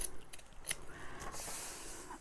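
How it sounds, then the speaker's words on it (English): Scissors snip fabric for a Polly Pocket A5 case: two or three crisp close cuts, then a soft rustle of cloth, with no voices. "So I'm just going to snip this."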